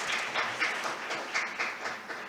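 Applause from a conference audience for a panel closing a health-security session, a steady patter of clapping with rhythmic swells, moderately distant and without talk over it.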